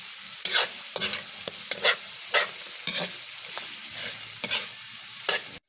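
Dinuguan being stirred in a sizzling pan, a spoon scraping and clacking in irregular strokes over a steady close frying hiss.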